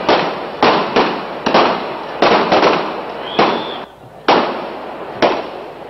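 Police fire rubber bullets and tear gas shells to control a street clash after Friday prayers, making about eight sharp, loud bangs at irregular intervals, each trailing off briefly with a faint murmur beneath.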